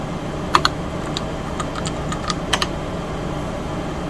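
Keys tapped on an Apple IIe computer keyboard, a short irregular run of clicky keystrokes in small bursts, close, over a steady room hum, no voices.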